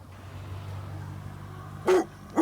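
Over a low droning hum, a dog gives two quick barks near the end, loud and close.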